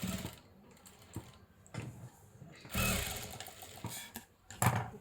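A sewing machine stitches a child's ruffle frock in short, separate bursts of mechanical clatter with quiet handling gaps between them, heard up close.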